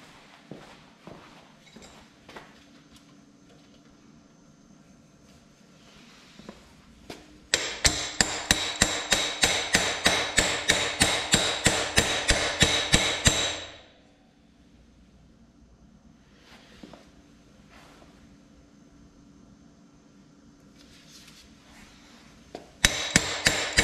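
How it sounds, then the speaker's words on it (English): A hammer taps a Honda CT90 motorcycle axle in a fast, steady series of sharp strikes for several seconds, with quieter handling noise before and a few more taps at the end, during a tire change. "Then we're going to lightly tap on the axle."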